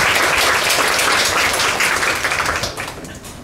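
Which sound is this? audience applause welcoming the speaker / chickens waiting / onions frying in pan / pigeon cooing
audience applause welcoming the speaker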